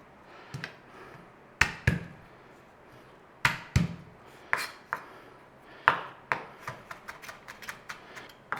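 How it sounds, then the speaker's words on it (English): Garlic mashed and minced with a knife on a board, sharp irregular knocks and thuds that quicken into rapid chopping taps toward the end, close and distinct with no voices. "Garlic, mash it and mince it."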